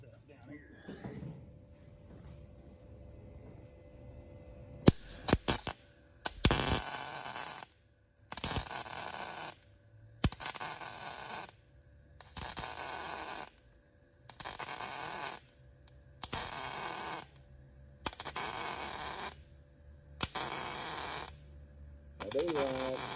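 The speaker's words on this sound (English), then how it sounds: "when you let off when you're welding, when you're like stitch welding like that, you'll hear it keeps flowing gas" A Primeweld 180 welder laying stitch welds on a twin turbo kit gives a crackling buzz in regular bursts of about a second, each followed by a quiet hiss of gas post flow, close and loud.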